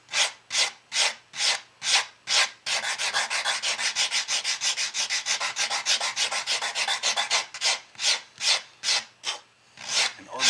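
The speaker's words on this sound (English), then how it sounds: "I'm going to do what I always do. Use my little hand sander." Hand sander worked back and forth over a maple wood guitar pickup ring, close and steady rasping strokes, slow evenly spaced passes at first, then a quicker run of short strokes before slowing again.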